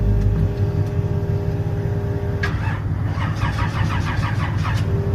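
A Big Block Malibu engine fires up on a dyno, a loud crank catching into a heavy, rumbling run with sharp throttle blips near the end, steady and close throughout.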